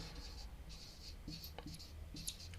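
Pen or pencil scratching across paper in short bursts of handwriting while a word is written out, quiet and close, with soft pauses between strokes.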